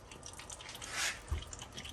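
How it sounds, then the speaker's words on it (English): Oil drips faintly while being drained from a Honda B18C1 engine during head gasket work, a few soft, sparse drops with a light thud over quiet garage background. "is it actually dripping in there?"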